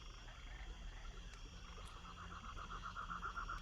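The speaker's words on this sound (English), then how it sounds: "It's a little louder, the sounds of these frogs." Chorus of bullfrogs croaking in a swamp at night, a steady pulsing throb of repeated calls that grows louder toward the end over a dense hum of insects and night ambience.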